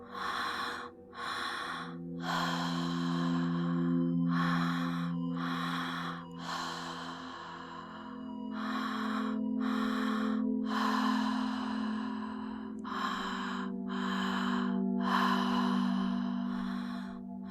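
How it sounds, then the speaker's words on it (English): Deep, slow breaths during a conscious connected breathwork session, each long audible inhale and exhale repeating steadily with short pauses between, close and clear over a soft sustained musical drone, with no talking. "I'll be breathing alongside you, but there's no need to follow my breathing pattern."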